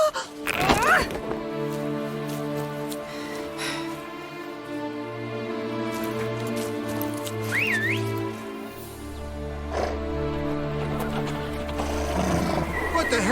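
Horses in The Witcher 3: Blood and Wine whinny and snort over a sustained orchestral score, a clear neigh rising near the start and another around the middle, with a voice speaking over the scene.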